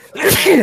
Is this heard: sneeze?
yes